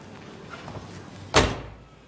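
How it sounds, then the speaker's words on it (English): A single solid thud as the door of a 1968 Dodge Charger R/T is shut, arriving after a quiet moment and then decaying quickly. "Doors shut great."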